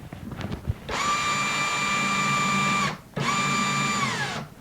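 An electric drill, loosely held and flopping around during a mini CNC build, whines loudly at steady speed in two long bursts separated by a brief pause, with a faint rattle beneath.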